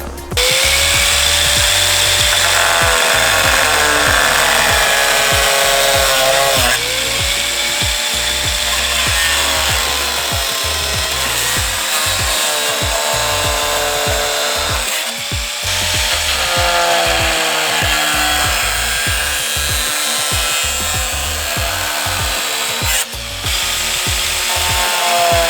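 An angle grinder cuts steady and loud through a DIY Rocket Bunny LED bumper, its harsh whine continuous for the whole stretch with slight dips in pitch as the load changes.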